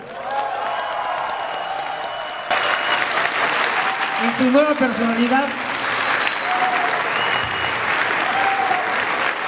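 An audience at a comic convention conference applauds to welcome the guest speakers, steady clapping and some cheering that continue throughout, with an announcer speaking over it.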